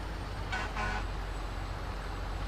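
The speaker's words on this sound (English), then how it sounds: "I hear you honking your horn." Two short horn honks from a Marmon 57P truck in American Truck Simulator in quick succession over a steady low engine rumble, moderately loud, with no talking.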